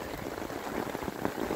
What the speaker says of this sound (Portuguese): Vocês estão vendo a chuva aqui no sertão.